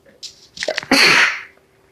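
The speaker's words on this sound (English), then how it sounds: "Oh, I think I'm going to sneeze." A single close sneeze, with a couple of quick inhaling gasps leading into a loud, breathy burst.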